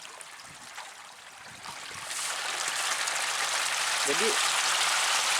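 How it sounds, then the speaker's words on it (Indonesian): Rain falls steadily on an outdoor koi pond, a broad hiss that swells louder partway through, with someone speaking briefly over it. "karena di sini kita sedang cuaca buruk, sedang hujan"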